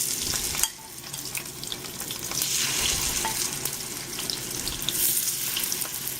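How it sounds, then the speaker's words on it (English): Battered shrimp fry in hot coconut oil, a dense close sizzle and crackle that holds steady throughout, with a faint clatter as they drop into the pan and no talk. "We're going to drop them off into the coconut"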